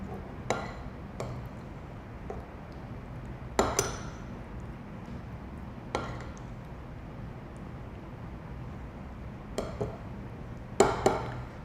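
A spoon clinks against a dish in scattered, irregular taps while a Forever Fiber sachet is stirred into yogurt, the sharp clinks standing out over a quiet background.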